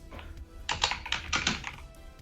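Computer keyboard typing in quick bursts of clicky keystrokes, close and fairly clear, with brief pauses between clusters and no talking.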